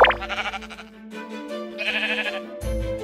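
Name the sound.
sheep bleating in the video game Minecraft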